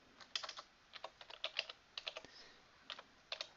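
Keys on a computer keyboard are tapped in short quick clusters, close and fairly quiet, with brief pauses between bursts of typing in a still room.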